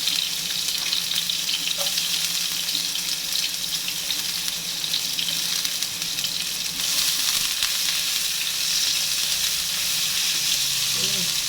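Garlic dropped into hot oil for kinamatisang pork sizzles in a dense, constant hiss that fills the whole stretch, loud and close, with no voices over it.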